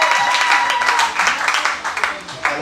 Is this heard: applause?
yes